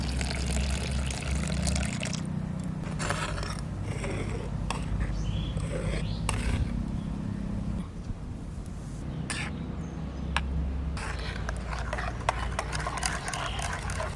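Water is poured into ground mustard paste and stirred to loosen it while making hilsa in mustard sauce with taro greens. The wet swishing and mixing runs steadily and close, over a constant hum of kitchen background noise.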